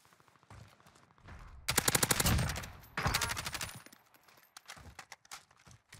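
Gunfire rings out in the Warzone Zombie Royale battle royale game, a couple of bursts of rapid sharp reports at moderate distance with quieter gaps between them.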